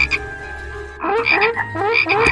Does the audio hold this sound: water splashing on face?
no